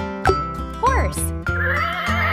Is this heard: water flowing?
no